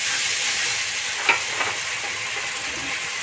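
Onion paste hitting hot oil with garlic paste, a loud, continuous close-up hiss and sizzle with one brief clink of a utensil partway through.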